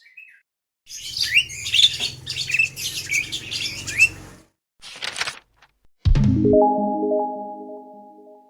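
An Asian pied starling sings close and loud, a busy run of whistles, chirps and squawks broken by short pauses, ending with a drawn-out, ringing mimic-like tone.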